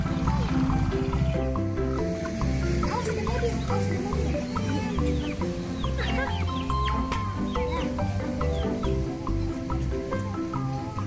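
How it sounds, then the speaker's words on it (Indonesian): Many chickens cluck and call near a person feeding them outdoors, a dense continuous chorus of clucking with no talking over it. "Nah, lihat tuh, ayam banyak banget ya."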